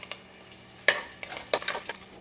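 Garlic and ginger sautéing in hot oil in a pan, a steady soft sizzle broken by a few sharper clinks and scrapes of stirring, with no talking.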